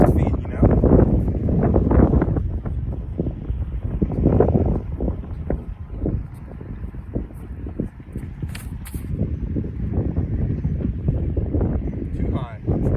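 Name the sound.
strong tailwind blowing on disc golf course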